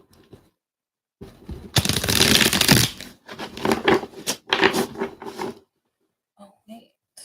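Tarot cards are shuffled up close in a loud, riffling burst, then in several shorter flurries of rustling and slapping, followed by a few faint murmurs.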